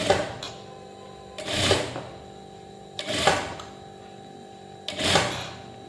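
A sewing machine stitches small folded pleats into a puff sleeve, running in four separate bursts that swell and fade over a steady mechanical hum, close and fairly loud with no talking.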